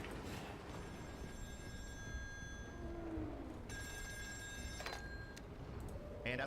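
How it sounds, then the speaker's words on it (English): A telephone rings inside the horror game Still Wakes the Deep, two separate bursts of a bright electronic bell with a pause between them, fairly quiet over low background ambience. "As you're trying to leave, you will hear the phone to your left."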